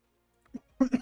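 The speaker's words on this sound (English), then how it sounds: "Sorry for the coughing." A person gives a couple of short, close coughs in quick succession after a brief quiet moment, in an otherwise silent setting.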